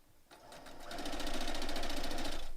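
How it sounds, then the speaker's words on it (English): A sewing machine chain pieces rows of quilt blocks, starting up after a brief pause and building into a steady rapid mechanical whirr with fine rhythmic stitching ticks, close and continuous. "And just sewing them along."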